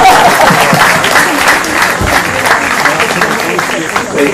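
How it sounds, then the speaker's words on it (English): An audience at a literature festival closing session breaks into loud, sustained applause, a dense continuous patter of many hands that holds steady throughout with some voices underneath. "Just for that, a double applause to"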